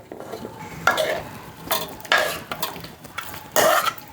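Vegetable curry with noodles stirred in a pan, a series of scraping, clattering utensil strokes against the pan in uneven bursts, close and clear with no talk.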